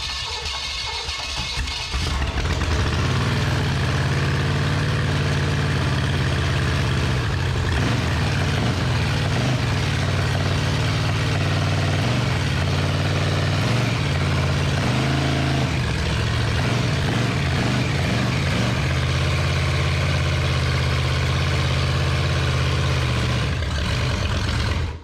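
A square-body dually pickup truck sits idling, its engine a loud, steady low rumble that holds unchanged for the whole stretch, with no voices over it.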